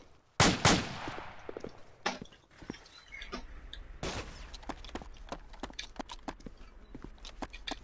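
Lee Enfield rifle fire in the Arma 2 video game: a few loud, sharp shots with some echoing tail, separated by quieter stretches of scattered impacts and movement.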